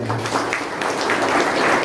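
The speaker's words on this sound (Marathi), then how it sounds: "जोरदार गावडे साहेबांसाठी टाळ्या होत्या" Sustained applause at a public gathering in honour of Gawde saheb, a dense wash of many hands clapping fairly close and loud throughout.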